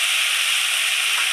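Kolmi greens frying in a pan with green chillies, salt and turmeric, giving a steady, close, bright sizzle that hisses without a break throughout.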